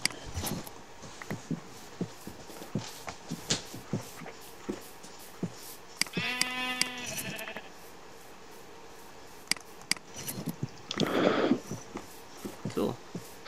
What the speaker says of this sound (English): Look at all these sheep running, wandering around with no wool.